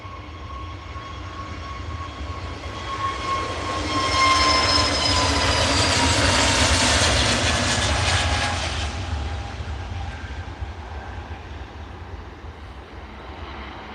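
Jet airliner departing Edinburgh Airport bound for Bristol, a broad roar of engines swelling from a distance, peaking loud in the middle and fading away again, with no talk.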